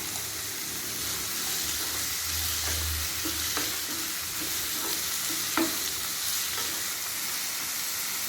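Chopped tomatoes sizzle steadily in a hot pan while a utensil stirs them, producing scraping clicks at irregular intervals over the continuous frying hiss.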